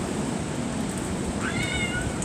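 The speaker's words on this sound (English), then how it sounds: "And you hear Mama Cat." A mother cat gives a single drawn-out meow outdoors against heavy wind and rain noise, fairly near and clear above the steady rush of the storm.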